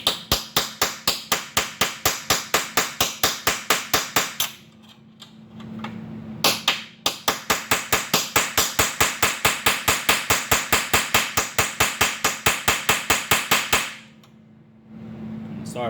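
Rapid, loud metallic hammer strikes on a chisel in a steady rhythm, pausing briefly twice before the pounding resumes, close by, while fitting a custom radiator mount on a twin-turbo Corvette.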